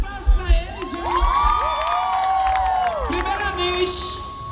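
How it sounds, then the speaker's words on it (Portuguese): A live show crowd in Timbaúba, Brazil, with children among them, cheers and shouts continuously at close range, loud whoops rising over a steady roar while sustained melodic tones run underneath. "Cadê os aplausos pra eles, gente?"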